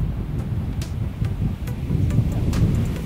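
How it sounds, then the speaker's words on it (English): Wind buffets a microphone outdoors as a steady low rumble with brief gusty swells, with no voices. "Kind of tough, we got a little bit of wind issues."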